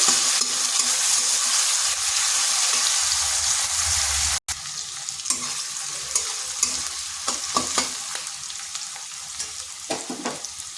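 Onion fries in hot oil with a pinch of turmeric while being stirred, a continuous close sizzle broken by a brief gap and followed by scraping stir strokes.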